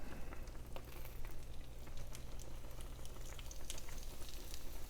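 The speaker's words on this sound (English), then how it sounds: "Here, just a little sizzle there." Food frying in a pan gives a steady, fine sizzle with faint crackles throughout, close and moderately quiet, with no talking.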